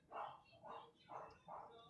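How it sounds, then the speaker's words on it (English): A dog barks four times in a steady rhythm, faint and somewhat distant, heard from indoors with no other sounds. "My dog is barking."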